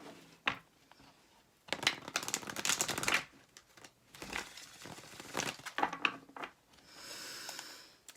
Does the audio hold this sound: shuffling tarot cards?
yes